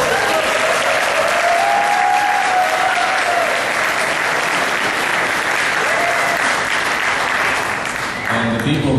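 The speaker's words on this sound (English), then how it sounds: "I wanted you to give them a round of applause" An outdoor crowd at a Republic Day event in Los Angeles applauds loudly and steadily, a dense burst of clapping with a voice briefly speaking over it.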